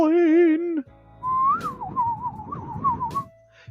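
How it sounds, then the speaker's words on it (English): A person whistles a wavering, sliding tune up close, one short held phrase followed by a longer meandering melody over faint room noise, during a live drawing session. "Who's here good at whistling?"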